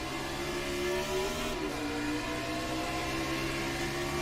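Stock car engine in the iRacing video game at Darlington on a restart, a steady droning whir with a sustained revving tone, fairly faint and continuous.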